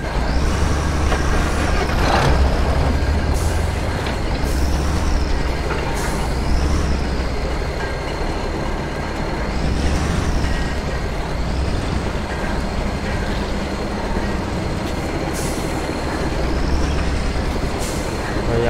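Bus driving over a dangerous bridge in a video game, a steady engine drone with rattling and several short hissing air-brake bursts recurring throughout, loud and close, without speech.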